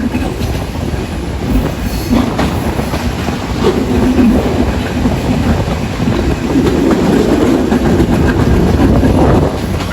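The Sundarban Express runs from Dhaka toward Khulna past Kalukhali Junction, heard loud and steady from aboard, with rumbling wheels, rhythmic rail clatter and faint squeals throughout.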